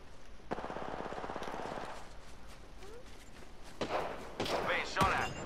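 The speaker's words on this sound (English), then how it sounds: "Being shot at." Rapid automatic gunfire in Apex Legends, a close burst of fast shots lasting a couple of seconds, followed by scattered thuds, impacts and a few sharp single reports; someone talks faintly in places.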